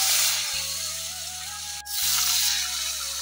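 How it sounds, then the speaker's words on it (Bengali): Pieces of bhetki fish fry in hot oil, giving a loud continuous sizzle with a low steady hum underneath and a brief break partway through; no one speaks. "ওদিকটা তো আমি মাছের পিসগুলো ভাজা করে নিচ্ছি"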